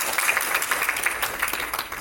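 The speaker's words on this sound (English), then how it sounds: "If we could give him a huge round of applause." A conference crowd at a Divergent X panel gives a sustained round of applause, with thick, even clapping that fills the room and has no talking over it.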